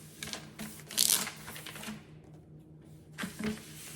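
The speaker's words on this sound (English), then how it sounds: "The first thing you want to do is roll out your paper." Gift wrapping paper being rolled out from its roll for wrapping a basic box, heard as a series of close crinkling, rattling bursts, loudest near the start, with a brief lull before a final rustle.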